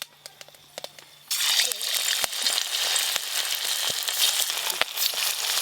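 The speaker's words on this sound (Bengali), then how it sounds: "কোপ্তাগুলো তো তৈরি হয়ে গেছে, আর এদিকে তেল বেশ ভালো করে গরম হয়ে গেছে। কোপ্তাগুলো ভেজে নেব।" Pumpkin koftas drop into hot oil and break into a loud, continuous sizzle and crackle after a brief quieter moment with a few clinks, the frying holding steady and close to the end.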